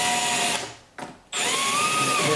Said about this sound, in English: So we're just going to drill some holes here.